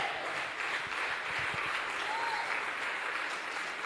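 A church congregation bursts into sustained applause, a thick, even roar of clapping from many people that continues unbroken throughout.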